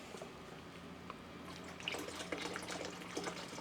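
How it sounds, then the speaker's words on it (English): Warm water pours from a tap into the tank of an ultrasonic cleaner, a soft and steady splashing trickle that grows busier and bubblier partway through, heard close and faint. "Start out with plain warm water."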